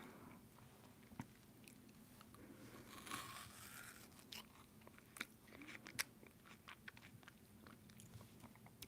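Crunchy food bitten and chewed up close during a whispered ASMR livestream, with sharp irregular crunches and crackles scattered over several seconds against a quiet background.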